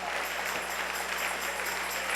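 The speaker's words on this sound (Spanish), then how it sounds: "Dale un aplauso al Rey en esta mañana." Soft applause from a church congregation, steady and continuous over a low hum, fairly distant in a large room.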